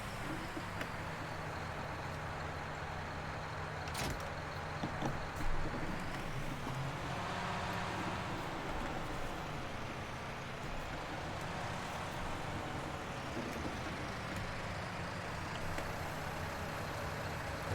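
Tractor engine in Farming Simulator 19, a steady low droning hum running continuously and evenly throughout at a moderate, unchanging level with no talk over it.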